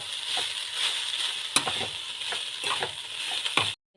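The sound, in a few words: stirring poha (flattened rice) upma in a frying pan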